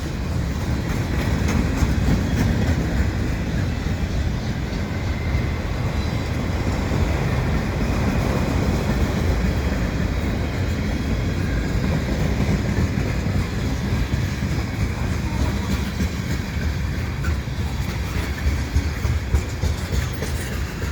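A winter freight train of CP stack and mixed freight cars with GE locomotives rolls past close by at Dorval Station, a steady heavy rumble with rattling wheels and clanking cars that continues unbroken throughout.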